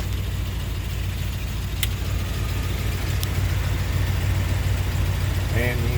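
A 1990 Jeep Grand Wagoneer engine idles steadily with its new AC compressor running, a constant low rumble that stays close and even throughout with no talk over it.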